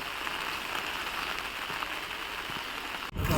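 Rain falls steadily as a continuous close hiss on a wet surface for about three seconds, then cuts off abruptly near the end. No one speaks.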